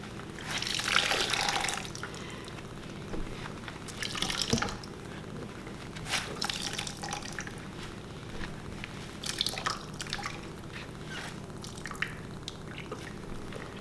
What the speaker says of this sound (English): we're gonna just take it and just squeeze out as much as the water